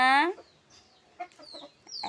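Chickens cluck nearby, one loud squawk at the start, then a few softer, scattered clucks in a quiet setting.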